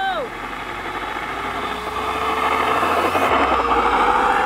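An RC F-15 model jet engine on the ground whines steadily and rises in loudness as the throttle is pushed for a ground takeoff, heard outdoors at moderate distance with a constant rushing roar.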